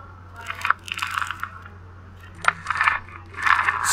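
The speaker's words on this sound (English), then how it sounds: "Tilt the knife and slice through the celery using your fingers as a guide." Knife slicing through celery on a board, a few crisp crunching cuts in separate bursts with pauses between them, close and clear over a faint low hum.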